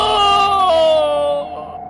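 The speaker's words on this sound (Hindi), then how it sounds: "वो जोर से चीखा और फिर उसकी आवाज बंद हो गई।" A man lets out a long, loud, anguished scream of pain that bends downward in pitch and fades away, heard alone.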